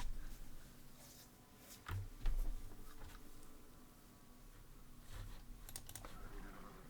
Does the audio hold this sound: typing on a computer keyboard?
yes